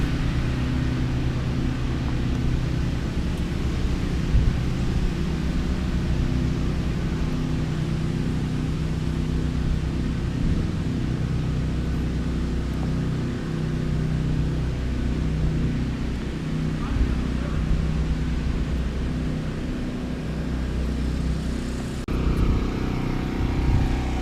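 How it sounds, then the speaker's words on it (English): Many home generators run continuously along a residential street the day after Hurricane Matthew, forming a steady, loud low drone that hardly changes over the whole stretch, with no talking. "Pretty much everyone on my street has a generator, so you can just hear them all running continuously."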